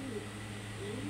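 Birds, likely pigeons, coo softly outside a tenth-floor flat, a brief, faint, low murmuring call over steady background hum.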